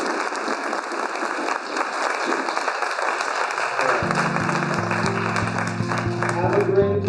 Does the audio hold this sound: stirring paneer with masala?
no